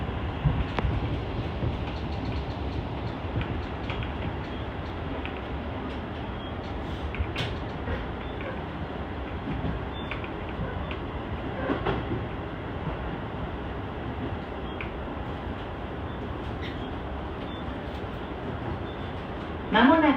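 A Sotetsu local train runs toward Seya station, with a steady interior rumble and soft wheel clicks throughout, heard from inside the car and fairly quiet.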